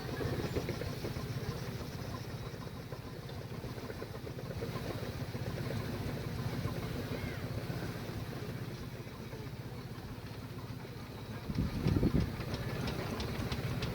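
A miniature steam engine modelled on the full-size Royal Chester runs with a quiet, steady mechanical churn, with a brief louder burst near the end.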